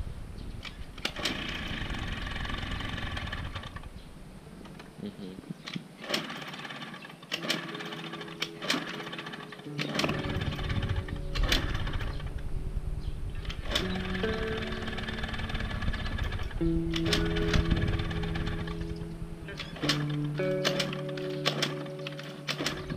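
A cheap scooter engine, just fitted with a new spark plug, putters unevenly in close, loud, rattly bursts with frequent sharp clicks and revving, stopping and catching again over the span.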